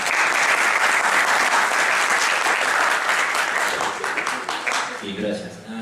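A conference audience at a student philosophy colloquium gives loud, dense, sustained applause welcoming a speaker, tapering off near the end as a voice begins.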